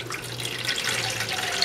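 Water running from a tap into a yogurt maker container while preparing French cream, a steady close splashing pour with a faint hum beneath it and no voices.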